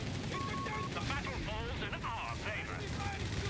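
Gunfire and Luftwaffe airstrikes in Company of Heroes 3, a 4v4 battle on Mignano Gap, form a dense, continuous rumble of shots and blasts with a voice talking over the top throughout.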